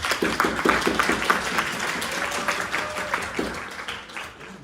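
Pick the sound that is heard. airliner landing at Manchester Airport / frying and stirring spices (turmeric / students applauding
students applauding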